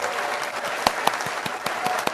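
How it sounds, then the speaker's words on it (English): An audience claps in a dense, continuous wash of applause, a few louder individual claps standing out near the front. "Applause!"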